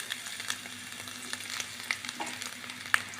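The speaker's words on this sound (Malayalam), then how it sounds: "എണ്ണ നന്നായിട്ട് ചൂടായിട്ടുണ്ട്. നമുക്ക് ഇതിലോട്ട് ചെറുതായിട്ട് അരിഞ്ഞ വെളുത്തുള്ളി," Finely chopped garlic and ginger frying in hot oil, a steady close sizzle with scattered crackles and pops while being stirred, no voices.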